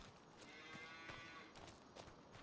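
Cattle lowing in the farming game Farming Simulator 25, a few soft moos layered over a steady low farmyard ambience, fairly quiet and without talk.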